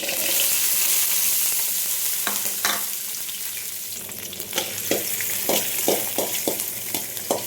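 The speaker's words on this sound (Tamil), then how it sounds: "இதெல்லாம் அப்படியே வறுபடட்டும்." Garlic and chillies fry in a pan with a continuous close sizzle, broken by a series of short scraping strokes as the spoon stirs them around.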